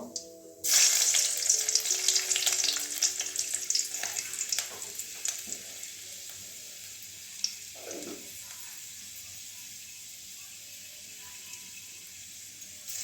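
Crushed garlic hits hot oil in a pan with a sudden loud sizzle that crackles steadily, then slowly fades into a softer hiss, with a brief clatter of stirring partway through.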